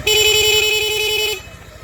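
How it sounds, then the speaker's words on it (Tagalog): Seger 50F dual disc horn fitted to a Euro Samurai 155 scooter, sounding in rapid mode: a loud, shrill electronic tone pulsing in fast repeated bursts for over a second, then cutting off abruptly. "switch, Seger horn, rapid."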